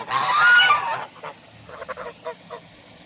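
Wild geese or ducks at the Duck Pond, a historical landmark near Pennington Gap, Virginia, give a loud burst of honking, then several shorter, fainter calls follow at intervals, with no talk.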